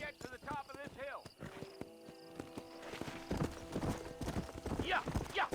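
Hooves of a ridden horse clatter in a steady, brisk rhythm in the video game Red Dead Redemption, close and clear, with a voice urging the horse along and a short whinny near the end.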